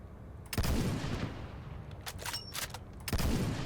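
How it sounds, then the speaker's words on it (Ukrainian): Loud gunfire bursts from weapons in the S.T.A.L.K.E.R. OWR Infernal update. Three separate volleys ring out, one at the start, a pair of sharp shots in the middle and another burst near the end, each followed by a reverberant tail. "Звук пострілу."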